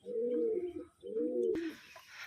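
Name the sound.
pigeons cooing in a loft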